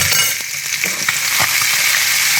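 Tilapia fillet frying in a pan, a loud continuous crackling sizzle with a few small pops and utensil taps close by.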